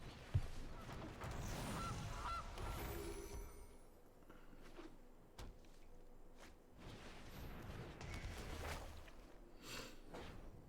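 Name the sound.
goose honk sound in a video game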